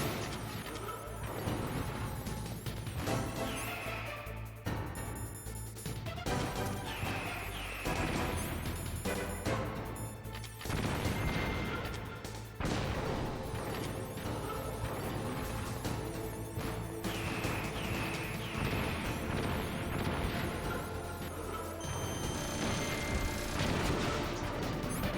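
Missile blasts and combat noise in Metal Gear Solid, repeated loud explosions and crashes spaced through a long stretch over a busy game soundtrack, with no voices.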